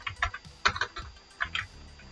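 Typing on a computer keyboard, a quick irregular run of close, crisp key clicks with short pauses between bursts, no voice.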